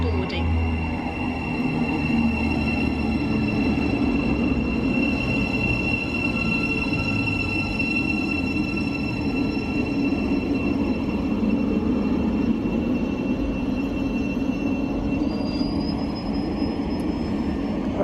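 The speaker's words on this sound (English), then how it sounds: "It's a 12 coacher going to Peterborough" 12-coach Thameslink train bound for Peterborough rolling along, a steady rumbling roar with high wheel-squeal tones running throughout, close and loud, a voice talking faintly at times underneath.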